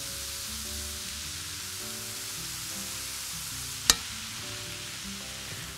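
Fish fries in oil in a pan with a steady, even sizzle and a faint crackle, broken once by a sharp single click near the end.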